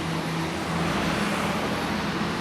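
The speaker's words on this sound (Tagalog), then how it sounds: "Ang ingay ng mga sasakyan." Steady traffic noise from vehicles passing on a road, a dense continuous roar of cars, buses and trucks heard up close with no distinct breaks and no talking.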